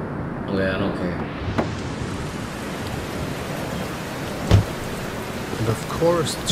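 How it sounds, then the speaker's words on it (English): Heavy rain falls steadily in FNAF 3: Mind Of A Killer, a broad constant hiss with a couple of brief thumps, while a voice talks briefly over it. "And of course it's raining like hell."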